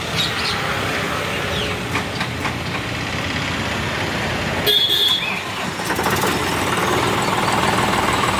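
A John Deere 5510 tractor engine runs with a steady, loud diesel rumble throughout, with a brief rise in intensity midway as it keeps idling close by.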